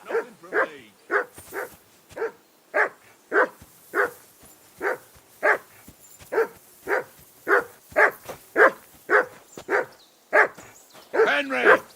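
A dog in the video game Kingdom Come Deliverance 2 barks repeatedly and steadily, about twenty loud, evenly spaced barks close by, ending in a quicker flurry of yips.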